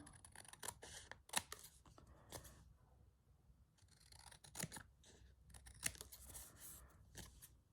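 Scissors trim paper for a journal collage: a series of crisp, close snips and faint crinkling at an irregular pace, quiet overall, with no talking.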